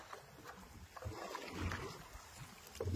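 Water splashing and lapping around a fishing boat on a river during hilsa fishing, under light rain with gusts of wind, heard close and fairly steady with irregular splashes.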